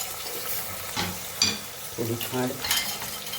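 Spoon stirring red chili powder, coriander-cumin powder, turmeric, garam masala, salt and a little sugar in a hot frying pan for a ravaiya stuffing, with scraping strokes over a steady sizzle and a brief voice.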